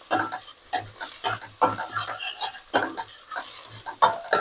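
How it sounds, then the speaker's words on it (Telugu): Browned onions in a pan are stirred in a steady rhythm of scraping strokes over a soft sizzle, each stroke close and distinct, with no one talking. "ఉల్లిపాయలు అయితే చక్కగా వేగిపోయాయి"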